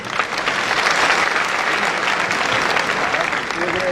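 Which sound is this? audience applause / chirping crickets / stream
audience applause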